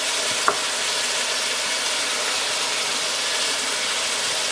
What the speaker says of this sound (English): just take this pan and just give it a quick shake